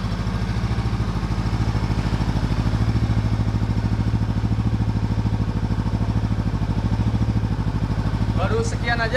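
Honda CB500X motorcycle engine running steadily with a dense, even pulse close by, its tone shifting slightly partway through, with a brief higher clatter near the end.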